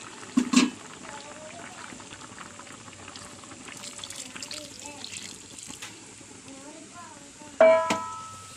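Sardine curry with coconut milk simmers in a pot with a soft, steady bubbling, framed by a brief clatter at the start and a louder clank of cookware near the end.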